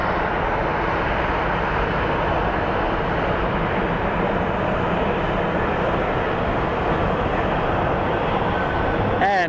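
A Southwest Airlines airliner in a special New Mexico livery arrives at Phoenix Sky Harbor airport, a loud continuous engine roar and rush holding steady throughout.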